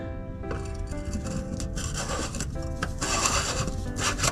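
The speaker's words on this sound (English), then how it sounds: "Just gonna wipe that flange right there." A cloth wipes a plastic flange on a vehicle part in a garage, giving a close, scratchy rubbing sound in short repeated strokes.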